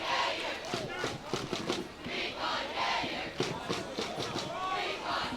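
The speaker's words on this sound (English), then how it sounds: "A little bit of a taunt from the Reddam crowd to the Bishops crowd" At an under-19 boys' water polo final between Bishops and Reddam, the Reddam supporters chant and shout taunts at the Bishops crowd. The rhythmic, loud group voices swell and dip continuously with sharp bursts throughout.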